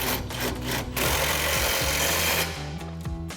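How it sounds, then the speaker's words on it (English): Impact wrench with a 21mm socket tightening a nut on a RAM 1500 truck suspension, a loud close continuous rattling hammer burst that runs for about two and a half seconds before winding down. "grab our impact 21mm socket and tighten that down"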